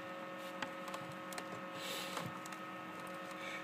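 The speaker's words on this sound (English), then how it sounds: "This motor turns really slowly, which is what you want." A slow electric motor turning eggs in a homemade incubator gives a steady, faint tonal hum with light mechanical ticks throughout, close and continuous.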